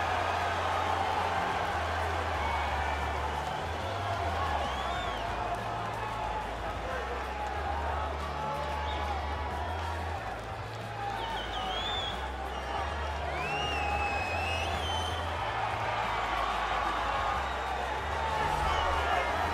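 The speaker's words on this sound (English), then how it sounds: "the crowd pops as this guy makes the walk to the octagon" Arena crowd in the EA Sports UFC 3 video game roars and cheers steadily as a fighter walks out to the octagon, a dense continuous wash of noise with speech-like chatter mixed throughout.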